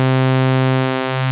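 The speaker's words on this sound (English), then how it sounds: "The final filter mode that we're going to be talking about is the notch filter." A steady, buzzy synth tone from Reason's Europa synthesizer runs through a notch filter, with a faint hollow, phasing-like dip drifting through its harmonics, continuous and loud throughout.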